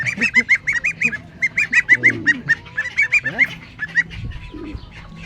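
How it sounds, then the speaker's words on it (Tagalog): Geese honk repeatedly in rapid, nasal bursts, several birds calling close by in a continuous noisy chorus. "Imported na gansa."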